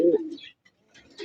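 Pigeons kept for sale and racing give a soft, close coo, a low throaty burst followed by a quieter second call after a short pause.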